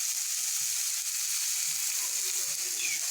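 A small tomato frying in a pan for a pea and potato curry gives a steady, close sizzling hiss, with a few soft low bumps from the pan underneath.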